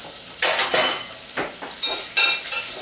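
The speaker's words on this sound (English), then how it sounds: "So now I'm adding some raw shrimp to my sauteed garlic." Raw shrimp hit a pan of sautéed garlic while cooking Hong Kong style shrimp fried rice. Several loud, close bursts of clattering stirring and scraping sit over a faint sizzle.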